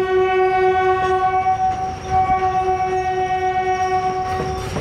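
A cargo train hauling the day's mine output rolls past, its horn sounding a long, steady, loud chord over the rumble and clatter of the wagons.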